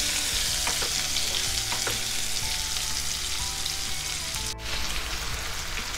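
Raw mango pieces sizzle steadily in a hot pan for a mango pickle, with occasional scraping stirs cutting through the continuous frying hiss, close and alone.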